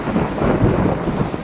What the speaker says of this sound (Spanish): La lluvia era tan fuerte que Juan casi no podía ver.